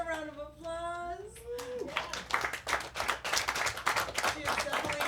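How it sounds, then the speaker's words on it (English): Applause at a live comedy show: after a brief voice, a small audience claps in a loose, scattered patter of hands, moderately close and lively, continuing steadily to the end. "Give her a round of applause."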